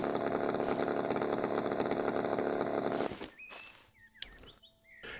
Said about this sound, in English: That's the only thing about the chainsaw. It is very noisy.